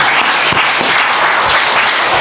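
A Korean Baptist church congregation in Anchorage gives a burst of applause during a Sunday service. The clapping is loud, close and dense, and holds evenly throughout.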